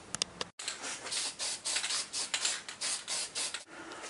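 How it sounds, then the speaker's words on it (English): Spray primer hisses in a series of short bursts onto a customised Superman-to-Nightwing action figure, close and fairly quiet, with brief pauses between the sprays. "What I'm going to do now is actually just primer this"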